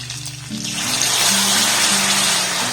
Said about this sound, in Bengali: চিকেনটাকে কিন্তু উল্টে পাল্টে একটু ভালোভাবে ভেজে নিয়েছি এবার এখানে আমি জল অ্যাড করব আমি এখানে একটু হালকা গরম জল ব্যবহার করব